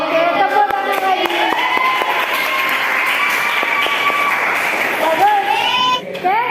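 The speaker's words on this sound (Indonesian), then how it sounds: "Oke, tepuk tangan lagi." Schoolchildren clap and call out in a classroom during a physics lesson on Hooke's law and spring arrangements, with a steady burst of applause mixed with lively young voices and shouts throughout.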